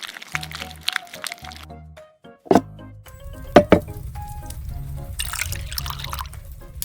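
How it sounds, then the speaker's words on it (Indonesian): Cut watermelon pieces are pressed through a strainer to collect the juice, with crackling squelches, a few sharp clinks and a steady trickle of liquid running beneath, close up and with no talking. "Saring semangka untuk ambil airnya."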